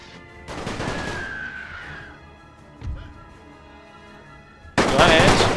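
Rifle volleys and machine-gun fire ring out in The Great War video game, with a burst early on, a heavy thump near the middle and a loud crackling salvo at the end.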